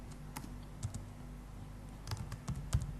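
Light, scattered keystrokes on a computer keyboard as a form title is typed, with a few soft clicks and quiet gaps between them, heard close and alone.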